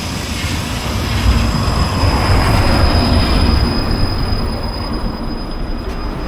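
A tram grinds along its rails in Kursk, Russia, at night, with steady loud rumbling and a thin high wheel squeal running through the whole stretch, and no voices.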